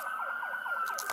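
An ambulance siren sounds ahead of a police vehicle during a pursuit, with a rapid, repeating rising and falling wail that stays steady and fairly close over road and engine noise.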